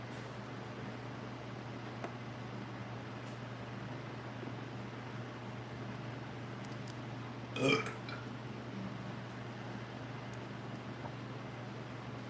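A single short burp rises once midway through a livestream eating show, set against a steady, quiet fan-like hum and room noise, with no talk.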